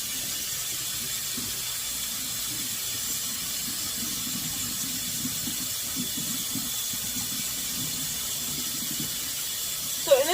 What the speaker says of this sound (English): I'm gonna run some warm water on this side, get rid of the ice.